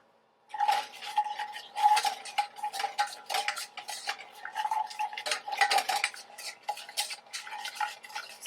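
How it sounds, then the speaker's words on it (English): Egg mixture for bread dough being stirred in a bowl, a steady run of quick scraping, clinking strokes close by with brief pauses, no talking. "So now we're just going to mix that together."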